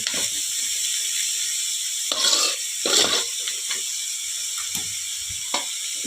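Vegetables frying in coconut oil in a pan for homemade fried rice, with a soft continuous sizzle and a few brief bursts of stirring and scraping, quiet and close.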